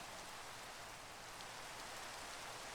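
Rainfall in Minecraft, a faint, steady hiss of dense rain with no distinct drops or other sounds, continuous and even throughout.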